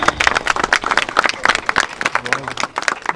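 A crowd applauds at the inauguration of a religious conference, with sharp, scattered claps rising and falling. Voices murmur beneath the applause.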